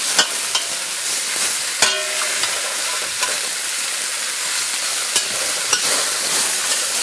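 Osso buco pieces searing in a heating Dutch oven, giving a loud, constant crackling sizzle with occasional sharp pops and stirring knocks, close up and without speech.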